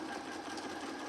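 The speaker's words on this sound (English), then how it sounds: "we're stitching the facing down" A sewing machine stitches down the facing on a bulky-fabric jacket, a steady, rapid mechanical whir running unbroken through the short stretch, close by and with nobody talking.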